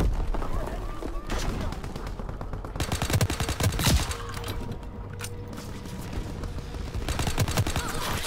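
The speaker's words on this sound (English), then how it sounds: "He's on the tank machine gun up there." Tank-mounted machine gun fire in the World War II shooter Call of Duty WW2, rapid bursts of automatic gunfire mixed with other battle noise, loud and continuous throughout.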